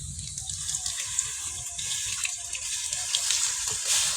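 Water poured into a cooking pan of potol and shrimp curry, a steady gentle splashing stream for a few seconds with no voices.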